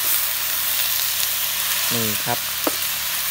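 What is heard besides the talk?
stir-frying food in a full pan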